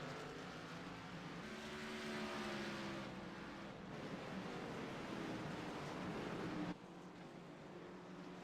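Race cars circling the Martinsville short track, lapping single file in a stock car event, make a continuous roar of engines rising and falling as the pack passes, heard from a distance as steady, moderately faint track noise without talk.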